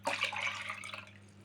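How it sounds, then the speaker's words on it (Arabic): Warm water poured into a bowl to dissolve instant yeast for Eid kahk cookies in a home kitchen, a short splashing trickle that starts loud and gradually thins out over about a second and a half, with no one talking. "اول حاجة بقى هنعمل دي مية دافية"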